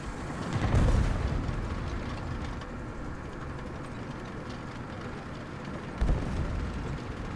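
Enemy aircraft bombs explode in War Thunder around a French Saint-Chamond tier-1 medium tank, with two heavy booms about five seconds apart over a steady low engine rumble.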